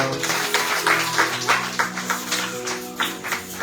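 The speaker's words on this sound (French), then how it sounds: "Acclamons le Seigneur." A church congregation applauding to acclaim the Lord, with steady, dense clapping from many hands that pulses slightly in loudness, mixed with sustained music or voices in the background.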